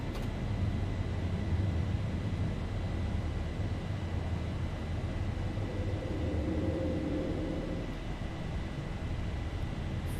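Zibo Boeing 737-800 in X-Plane 11 climbing out of Köln-Bonn after takeoff with gear retracting, heard as a steady, continuous broadband jet engine roar with a low hum, unbroken and without speech.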